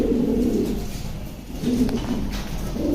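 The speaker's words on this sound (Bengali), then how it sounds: "খুব সুন্দর কবুতরটা" A racing pigeon at a loft coos in low, throaty bursts, a rolling call, then a pause, then more cooing, close and fairly loud.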